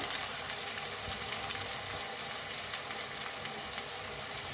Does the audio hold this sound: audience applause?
no